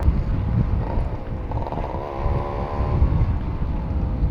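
A ported Suzuki Shogun motorcycle engine revs with a deep, throaty exhaust rumble, rising pitch partway through, recorded outdoors with wind buffeting the microphone.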